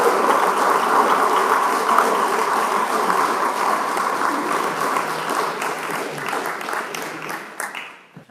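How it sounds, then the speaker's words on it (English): An audience applauds steadily to welcome a speaker at a public talk, a dense wash of many hands clapping that holds for several seconds and then thins out and stops. "please give a warm UPARS welcome to Elana Freeland"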